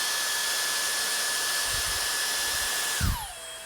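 A Dyson Airstrait hair straightener blows air with a loud, steady whooshing roar and a thin high whine, then the motor spins down and the pitch falls at the end.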